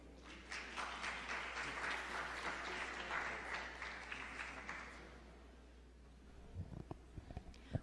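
Audience applause at a live academic conference session in Mexico, a sustained crowd of clapping hands that holds steady for several seconds, then thins out to a few scattered claps before stopping.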